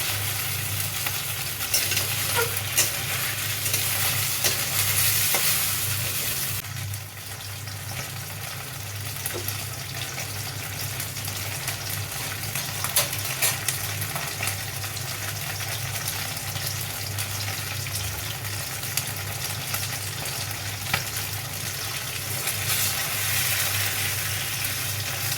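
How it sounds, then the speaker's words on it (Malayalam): Chicken pieces frying for a Peking-style Chinese dish, a steady loud sizzle with intermittent stirring scrapes against the pan, heard alone without talk. "കുറേശ്ശെ ഫ്രൈ ചെയ്ത്"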